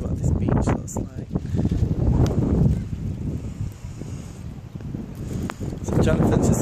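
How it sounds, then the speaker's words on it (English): Steady wind buffets the microphone with a low, rumbling roar on a beach in Lanzarote, while a person talks over it throughout. "It's windy, but this is a windy island."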